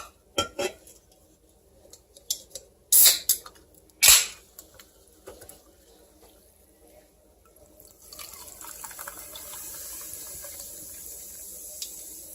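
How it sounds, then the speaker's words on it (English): A cup of Coke poured into a pot of ham: several sharp clinks and knocks of containers and cookware come first, then a steady fizzing, splashing pour sets in and continues to the end. "And I'm going to place in a cup of Coke."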